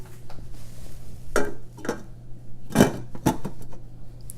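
A lid set onto a cooking pot of Madurai-style chicken curry, heard as a few sharp metallic clanks and clinks, with the loudest clatter near the middle, close by over a steady low hum.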